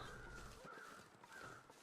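Crows cawing in the survival video game The Long Dark, a few faint, distant caws over a steady windy background.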